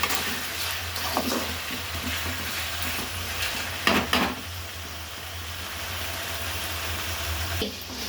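Onions and tomatoes sauté in a pan with turmeric and rock salt for a chicken gravy, a steady close sizzle with occasional scraping stirs, no voices.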